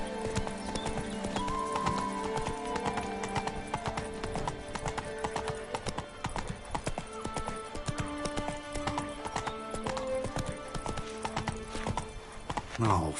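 Roach the horse galloping in The Witcher 3: Wild Hunt, a rapid, continuous clip-clop of hooves over background music, with a snort and a brief voice mixed in.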